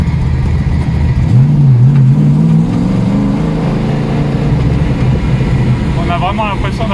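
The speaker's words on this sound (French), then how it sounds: "On a vraiment l'impression d'être dans une voiture de course." A homologated race car engine in a light, go-kart-like machine, heard from the passenger seat: a loud, continuous drone that climbs and wavers in pitch as it revs, with voices talking over it.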